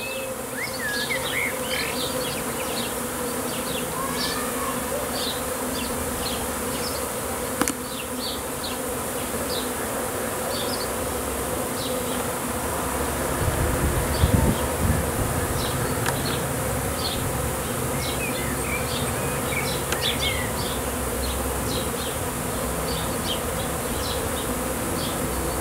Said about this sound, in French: Arrivée d'un essaim d'abeilles noires.